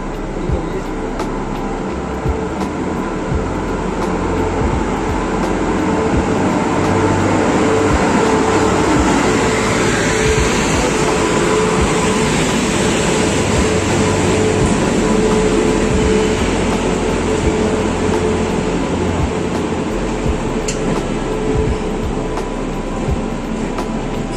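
A steady, loud rumble and rattle of the moving Chauri Chaura Express, hauled by a Kanpur-based WP7 locomotive, carries on without a break, with faint, indistinct voices now and then.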